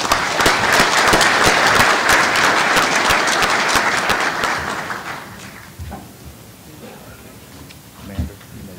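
Loud, dense applause from a convention audience at a general session, sustained for about five seconds before thinning out into scattered claps and room noise.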